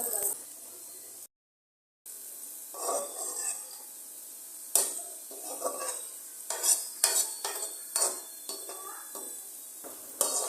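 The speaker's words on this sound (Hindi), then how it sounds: "मीडियम फ्लेम पर हम प्याज को फुल ब्राउन कर लेंगे।" Chopped onions frying in a kadai over a medium flame until brown: a steady sizzle under repeated scraping and clinking of a spatula against the pan, close by, with one brief dropout near the start.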